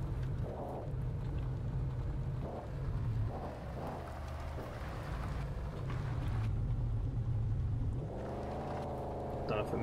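A car engine drones steadily in fourth gear in the video game Mon Bazou, a low continuous hum running throughout while someone talks over it.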